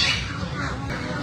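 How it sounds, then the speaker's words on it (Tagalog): Farm birds squawking, a short burst of harsh, overlapping bird calls at moderate distance, with faint outdoor background noise. "Ito yung aking mga ibon"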